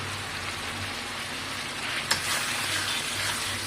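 Onions with Kashmiri red chilli sautéing in oil fizz in an even, continuous sizzle, with one sharp tap near the middle as the pan is touched.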